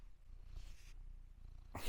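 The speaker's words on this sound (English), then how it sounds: "we've got another cat here" A neighbourhood cat purrs softly up close, a low continuous rumble that is faint and steady, with a brief brighter burst near the end.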